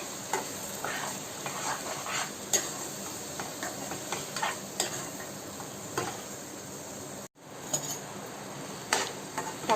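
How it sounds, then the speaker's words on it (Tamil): Tomato, shallots and garlic frying in oil in a pan, with a steady low sizzle broken by repeated stirring scrapes and light taps of a spoon against the pan, close and clear, with a brief pause near the end. "தக்காளி, வெங்காயம், பூண்டு எல்லாமே நல்லா வதங்கிருச்சுங்க"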